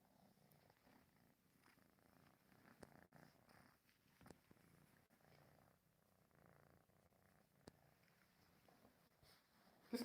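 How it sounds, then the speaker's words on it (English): A cat purrs very softly in a quiet room, a low rumbling texture that rises and fades in soft bursts, ending with a louder brief noise. "Can you hear her big purr too?"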